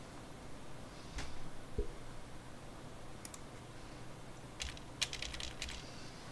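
A computer keyboard is handled and typed on at a ham radio station, giving sparse light clicks and short bursts of rapid key taps with a single thud. It sounds close but quiet over a faint hiss, with no talking.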